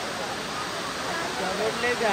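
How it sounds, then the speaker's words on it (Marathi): Waterfall on the way to a viewpoint near a lake, Matheran area: a steady, broad rushing of falling water, loud and unbroken, with no talk over it. "वॉटरफॉल आहे."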